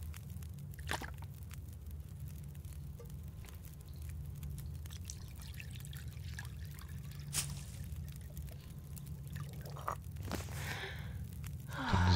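In the survival game The Long Dark, water trickles and pours inside a cave over a steady low hum, with faint drips and a few sharper splashes.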